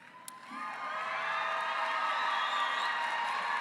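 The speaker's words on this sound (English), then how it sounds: "Loud crowd." A crowd at a university graduate commencement ceremony swells into cheering and whoops, rising from a brief quiet start to a sustained, fairly loud roar that holds to the end.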